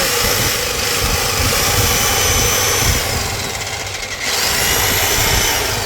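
A Total brand demolition breaker machine running at a tool shop in Nawabpur, Dhaka, a loud continuous motor roar and rattle, close and steady with a brief dip near the end.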